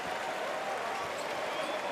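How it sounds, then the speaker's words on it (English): A basketball crowd at a FIBA World Cup qualifier between Canada and Jamaica applauds, steady dense clapping that fills the arena throughout. "The crowd are already on their feet to applaud"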